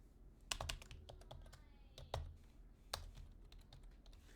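Someone types code on a computer keyboard for a Street Fighter 2 programming project: close, quiet clicking keystrokes in uneven bursts, with a few sharper key strikes standing out.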